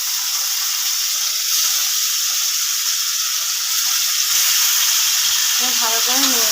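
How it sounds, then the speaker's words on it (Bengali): Taro stolons go into a hot pan after fish frying, giving a loud, continuous hiss and sizzle, with faint stirring toward the end. "মাছ ভাজা হয়ে গেছে, এর মধ্যে আমি কচুগুলো দিয়ে দেবো।"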